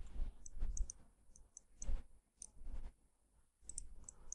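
Mouse clicks while working in CATIA V5 CAD software: scattered sharp, faint clicks in small pairs and clusters, close by and quiet, with no talking.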